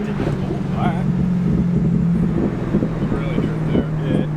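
A C5 Corvette with a Billy Boat Bullet axle-back exhaust, straight-piped with no mufflers, burbles and drones as the driver lifts off the gas. The exhaust stays loud and close, with wind buffeting and people talking over it.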